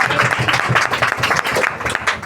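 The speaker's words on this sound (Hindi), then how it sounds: "इस वचन के लिए हम ताली बजाए परमेश्वर को धन्यवाद करें।" A church congregation claps together to thank God, a dense, steady burst of loud applause from many hands filling the room.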